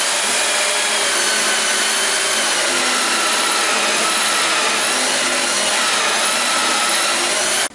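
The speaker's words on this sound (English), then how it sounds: "We're going to drill out at the center point the 2-inch hole for our grommet" A power drill with a 2-inch hole cutter bores through wood for a hookah table top, giving a loud, steady, broadband whirring roar up close that runs without pause and then stops abruptly.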